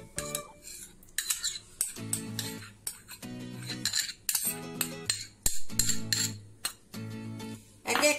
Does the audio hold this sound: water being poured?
no